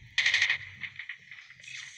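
Gunfire in the mobile shooter Call of Duty Mobile: a short rapid burst of automatic shots at the start, followed by scattered fainter shots and game effects, with no talk over them.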